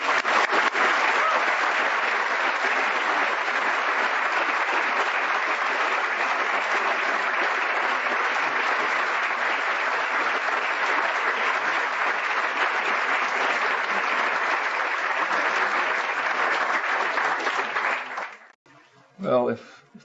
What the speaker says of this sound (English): let's give Noam a huge, huge round of applause